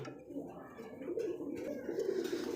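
Racing Giribaz pigeons coo in soft, throaty, rolling calls close by, a continuous low murmur of overlapping coos.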